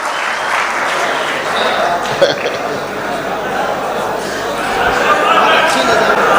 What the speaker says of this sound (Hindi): आप जोरदार तालियों से इस्तकबाल करें